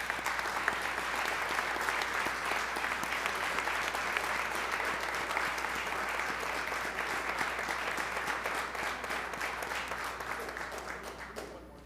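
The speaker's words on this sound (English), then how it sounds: "could we give another round of applause" A council meeting room fills with sustained applause from a gathered crowd, dense and even clapping that holds for about twelve seconds before tapering slightly at the end.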